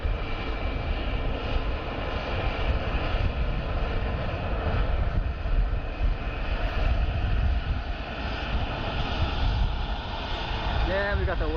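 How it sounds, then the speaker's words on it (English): Airbus A220 jet at Dublin Airport producing its distinctive engine whine, a loud sustained roar with a warbling tonal layer running throughout, a faint chirp near the end, as people chat over it. "Will we get a Wookiee sound from our A220?"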